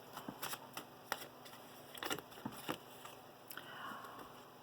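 Tarot cards shuffled in quick riffling bursts with crisp slaps, close and fairly quiet, with short pauses between flurries and no voices.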